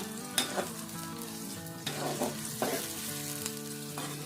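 Onions sizzle and crackle steadily in hot oil close by, with occasional clinks and stirring scrapes against the pan.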